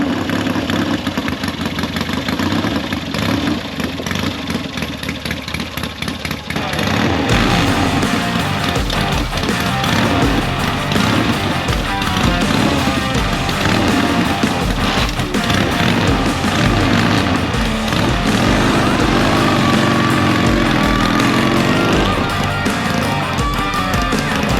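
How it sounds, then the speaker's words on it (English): A Triumph chopper motorcycle pulling away on the clutch and riding off, its engine loud and close with a steady rumbling drone after a brief quieter start, continuing throughout. "So don't kill it when you take off on the clutch, because it's geared a little bit differently."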